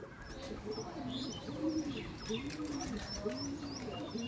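Pigeons coo repeatedly in a close, steady series of rolling calls, with faint chirps overhead and no speech.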